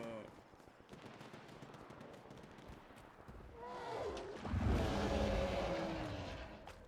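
Bursts of rapid gunfire crackle through the game S.T.A.L.K.E.R.: Shadow of Chernobyl, with engine-like roaring swelling louder toward the end.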